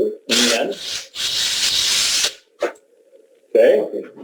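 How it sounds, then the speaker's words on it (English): A drill bores into the end of a hazelnut wood handle in loud bursts of rough, grinding rasping with brief pauses between them, and a faint steady hum runs underneath in the quieter gaps. "So I take my drill and I put a hole in the end."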